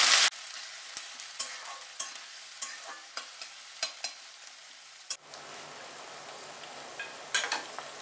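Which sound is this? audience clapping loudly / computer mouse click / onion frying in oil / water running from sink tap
onion frying in oil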